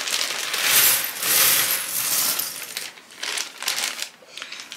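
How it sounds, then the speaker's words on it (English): Plastic Pintoo puzzle pieces handled and shuffled, a close, continuous rattle of small clicking and clattering pieces with bursts and brief pauses, no talking. "There's something about like the sound of plastic pieces that's so satisfying."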